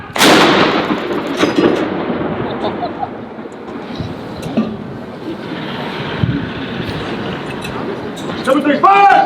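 Ceremonial cannon fire of a 21-gun salute at Edinburgh Castle, fired jointly by US and UK soldiers for the King: a loud blast opens, followed by booming, echoing rumble across the castle grounds with crowd noise and voices throughout.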